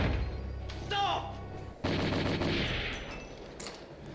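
A pistol gunshot goes off in the Chase the Express video game, a sharp broadband crack partway through, set among other game effects and a brief whistling tone, with some sound-effect layering but no clear talk.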